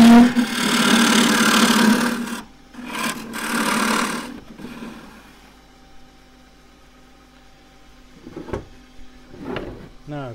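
A wooden hollow form spins on a lathe as a tool cuts into it, first a loud, continuous rasping for a couple of seconds, then short scraping bursts, followed by quieter pauses with faint scrapes.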